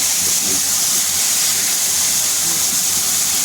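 Spice paste sizzles loudly and steadily in a pan while being sautéed for a pumpkin-greens dish with dried fish and small potatoes, a close, continuous hiss with no voices.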